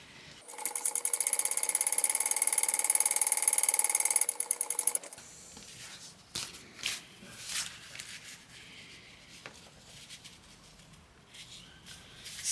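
A sewing machine topstitches down a folded, freshly ironed edge of waterproof canvas, running in a fast steady whir for about four seconds before stopping, followed by quieter handling and rustling of the fabric.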